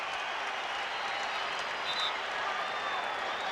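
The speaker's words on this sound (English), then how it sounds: "the crowd up applauding the aggressive play of Cleveland" A basketball arena crowd applauds Cleveland's aggressive play in a 1993 Bulls versus Cavaliers game, steady distant clapping and crowd noise under a commentator's voice.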